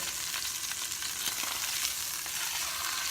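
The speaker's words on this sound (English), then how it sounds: "so my beef is seared" Beef browning in a pot for stew, a steady bright sizzle with faint crackles throughout, fairly close and unbroken by speech.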